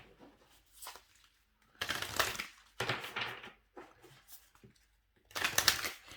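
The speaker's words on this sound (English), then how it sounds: "I just keep feeling like shuffling" Tarot cards being shuffled in several quick bursts of rustling, riffling and slapping, separated by short silences, close to the microphone and fairly quiet.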